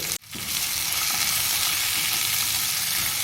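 Garlic and coconut pieces sizzle steadily in a hot pan, a loud, continuous frying hiss with faint stirring scrapes after a brief pause at the start.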